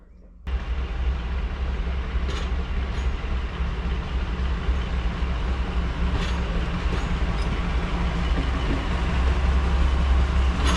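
Heritage diesel locomotive hauling a train on a preserved steam-era line, a steady loud low rumble and engine drone that holds constant for about ten seconds after a sudden start, with faint brief clanks over it.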